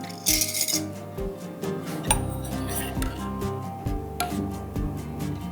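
A metal spoon clinks and taps against a glass jar of boiling radish pickling liquid with togarashi spices, several sharp, bright clinks at irregular intervals, close and clear with no talk.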